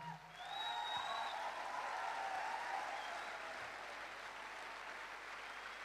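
An audience bursts into steady, sustained clapping at an event, a dense even wash of applause that holds at a moderate level for several seconds before easing slightly.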